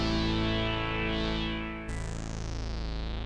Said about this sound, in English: with that really cool PWM patch,